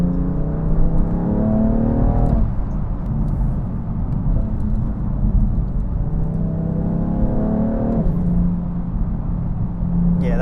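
BMW F80 M3 Competition engine revving hard under acceleration on skiddy roads, pitch climbing steadily, then dropping sharply at a quick gear change near two seconds and again near eight, each time climbing anew; loud, close and continuous, with no talking.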